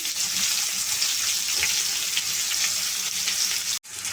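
Spices and sliced onions fry in oil with turmeric for an okra stir-fry, a dense, steady sizzle close by with faint stirring scrapes, cutting off abruptly near the end.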